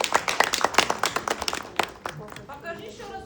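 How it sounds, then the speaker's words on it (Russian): Hands clap in a quick irregular burst of sharp slaps at a small inclusive theatre rehearsal, close and fairly loud, fading out after a couple of seconds. "И аплодисменты."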